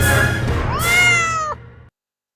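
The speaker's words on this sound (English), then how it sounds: "Meow." A cat gives a single drawn-out meow that rises then holds, loud and close, ending abruptly into silence.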